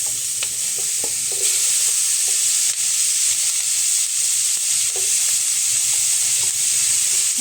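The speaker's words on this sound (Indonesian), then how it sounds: "Setelah itu aku mau tumis bawang merah, bawang putih, dan juga cabenya." Shallots, garlic and chili sautéing in reused cooking oil, a steady close sizzle with scattered clicks of stirring throughout.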